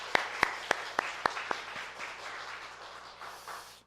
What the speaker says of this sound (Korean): 우리 하나님 앞에 한번 감사의 박수 올려드리겠습니다